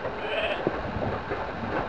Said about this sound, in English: The whole thing's full of sheep.